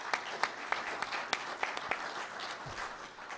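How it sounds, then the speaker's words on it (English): Audience applause at the closing of a Mars Society conference for Tam Zarnick, who hosted the hospitality room: a fairly faint, steady wash of clapping with a few sharper individual claps standing out. "Please give him a round of applause."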